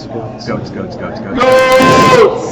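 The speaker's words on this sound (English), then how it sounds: "Goats." Goats bleat in one long, loud, wavering cry that follows a stretch of softer background sound and chatter, close and clear.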